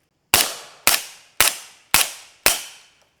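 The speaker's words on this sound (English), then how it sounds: "So that first one was first round pop, a little louder. The 4 shots after that, much quieter" Five suppressed gunshots fired through a Q Blind Tiger or Trash Panda suppressor, evenly spaced about half a second apart, each a sharp loud crack with a short decaying tail; the first round pops slightly louder than the rest.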